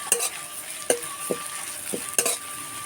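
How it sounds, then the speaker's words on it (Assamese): Chicken being fried with dried red chillies in a pan until reddish brown, a steady close sizzle broken by a few sharp clacks and scrapes as the pieces are stirred. "ৰঙা হোৱালৈকে ভাজিব লাগিব"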